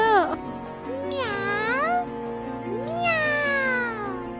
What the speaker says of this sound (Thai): เหมียว